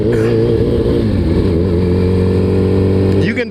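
A Suzuki Hayabusa liter bike's engine drones loud and steady while riding, a low sustained rumble with a slight pitch shift near the end, and a voice talks over it throughout.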